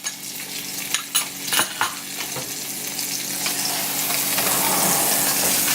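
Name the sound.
onions frying and sizzling in hot oil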